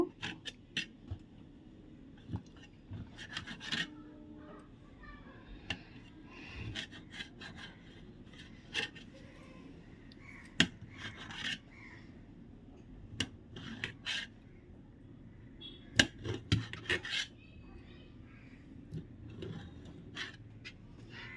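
Knife cutting the last large pieces of paneer in a home kitchen, soft scraping and slicing with scattered sharp taps against a quiet background, close and alone.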